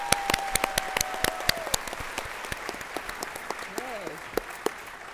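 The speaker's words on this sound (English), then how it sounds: "Let's give them a round of applause." Applause at the Music Center's Spotlight 2022 grand finale, sharp scattered claps from an audience ringing out over a sustained tone and brief voices, fairly close and steady throughout.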